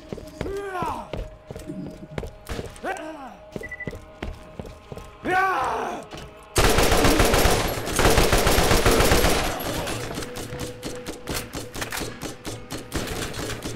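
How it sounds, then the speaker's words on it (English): An SNS machine gun fires in a video game. After a stretch of voices and sparse clatter, long, dense, loud bursts of rapid automatic fire take over, then continue a little more sparsely to the end. "He's got an SNS machine gun."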